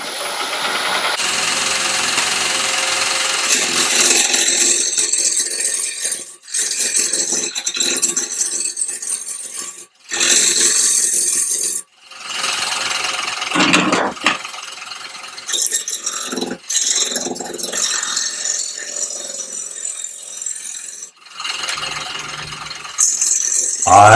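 A bull gouge cuts a green wood bowl blank on a wood lathe, throwing loud rasping, rattling shavings in long bursts, with brief gaps where the tool lifts off the spinning wood.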